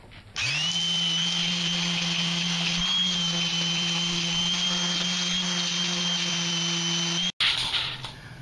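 An aggressive power sander smooths a car bumper while fitting fog or spot lights, spinning up to a loud, steady high whine that holds for several seconds before abruptly cutting off.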